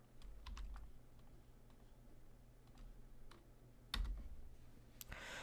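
Computer keyboard keys tapped in a quiet room while working in geometry software, a few sparse clicks with one sharper press near the end, alone with no talk.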